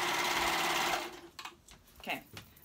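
A sewing machine stitches a hoodie seam in a steady, continuous whir for about a second, then stops, leaving soft handling noises and fabric rustles.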